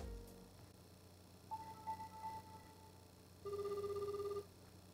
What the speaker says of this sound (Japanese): はい、普通の着信です。